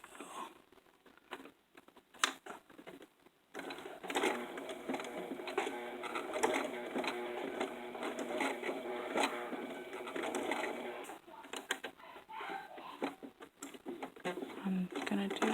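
A sewing machine stitching a zipper into a twirling dress, running in a steady mechanical whir for several seconds after short bursts, fairly faint, with a person speaking quietly around it.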